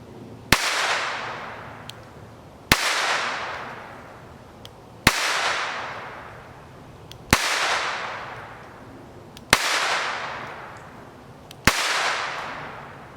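Six sharp, loud pistol shots from a small Beretta Model 418 at a shooting range, spaced about two seconds apart, each crack followed by a long decaying echo, with no talk.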